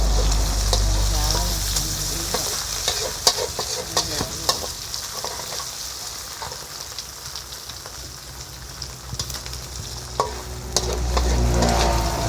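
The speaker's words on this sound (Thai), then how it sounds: "อันนี้แม่ครับเอาไข่ผัดกับหมูในกระทะแล้วนะครับ" Egg and pork stir-fry in a wok for wide rice noodles with soy sauce. A loud, dense sizzle carries throughout, dotted with quick metallic clicks and scrapes of the spatula, close up with no speech.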